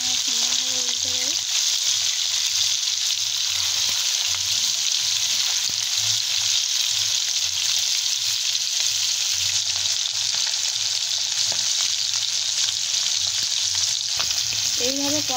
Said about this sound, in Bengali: এইভাবে কড়া করে আমরা মাছগুলোকে ভেজে নেব।